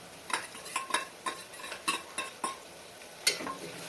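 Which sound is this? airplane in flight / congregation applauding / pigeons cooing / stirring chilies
stirring chilies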